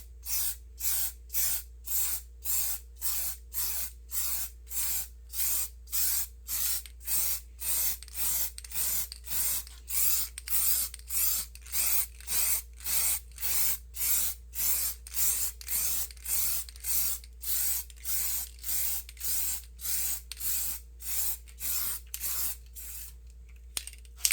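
Rapid, steady bursts from a spray paint can, painting an X-Maxx RC car body, hiss in a regular rhythm over a low constant hum, with no talking.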